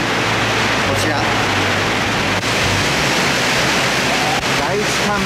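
A steady, dense roar of Fukuroda Falls in Ibaraki, Japan, heard fairly close from a suspension bridge, continuous and unchanging throughout.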